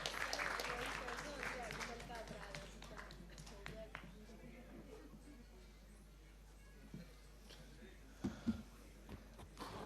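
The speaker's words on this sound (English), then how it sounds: "Let's give a big round of applause for our Vice President." Applause from a medical conference crowd starts dense and fairly loud, then thins and fades to scattered claps and faint room noise, with a voice briefly audible near the end.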